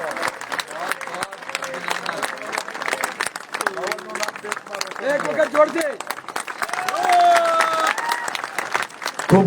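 A crowd applauds steadily at a farmers' protest rally in Raval village, a dense wash of clapping that runs the whole time beneath someone speaking over a loudspeaker.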